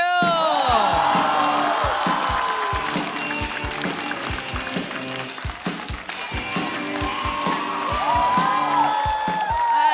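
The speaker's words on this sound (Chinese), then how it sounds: "掌声有请接下来要上场的岳明。" A stand-up comedy show audience applauds loudly with cheers and whoops throughout, a dense continuous wave of clapping and shouting.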